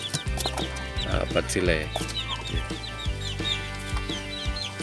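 Chickens and small chicks on a farm during a typhoon, hens clucking low and chicks peeping high and constantly, close by, while a person talks briefly over them.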